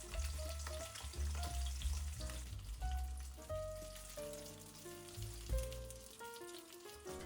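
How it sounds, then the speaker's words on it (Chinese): A golden pomfret pan-fries in oil, giving a soft, steady sizzle that sits quietly beneath prominent melodic background music throughout. "接下来这一面也是煎3分钟。"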